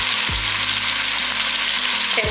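Four tomatoes dropped into a hot oiled pan for veg dum biryani, giving a loud, steady sizzle and frying hiss with a stirring scrape at the start and end.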